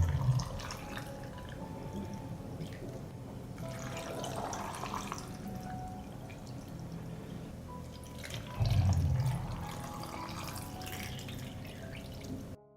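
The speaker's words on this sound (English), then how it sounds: "I pour water into the jars to cover the sweet cherries." Water pours into glass jars of sweet cherries with quiet trickling and dripping, swelling louder in two short bursts at the start and near the end.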